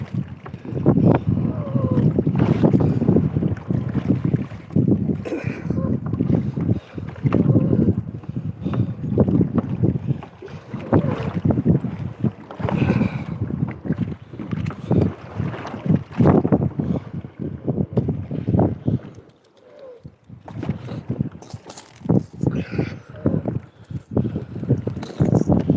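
Outrigger canoe on open water in gusty wind: rumbling wind buffeting the microphone with irregular splashy paddle-and-water noise throughout, loud and close, with a brief lull partway through.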